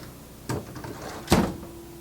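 Drawers in a 2006 R-Vision Trail-Lite 252 B+ motorhome sliding open or shut, two separate knocks about a second apart, the second sharper and louder, close by in a quiet interior.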